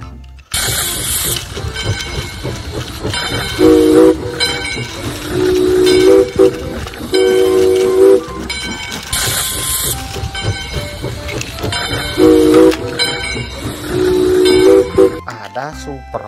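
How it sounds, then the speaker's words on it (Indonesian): A black train sounds its horn in repeated bursts over a steady chugging rumble, loud and close, with a voice speaking throughout. "kereta api berwarna hitam"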